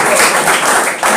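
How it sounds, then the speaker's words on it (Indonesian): A crowd at a political party declaration event claps loudly in a brief, dense burst of applause. "Tepuk tangan dulu"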